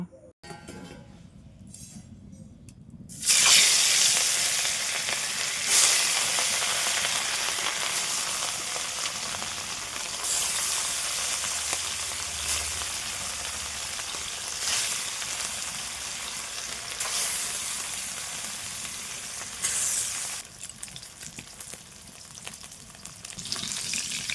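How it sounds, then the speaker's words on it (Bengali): Fish sizzles loudly in hot oil in a wok, a continuous crackling fry with occasional clinks and stirring sounds, close by. "তেল গরম হয়ে গেলে আমি মাছ ভেজে নেব।"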